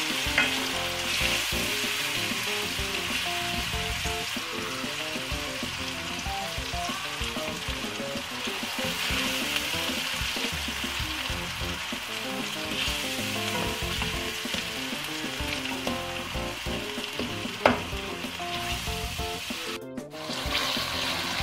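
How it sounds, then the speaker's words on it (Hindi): Tomatoes and spices frying in a pan for mash dal, a steady loud sizzle with scraping stirs throughout, one sharp clank near the end. "इसमें टमाटर तो अच्छी तरह से भून लेना है।"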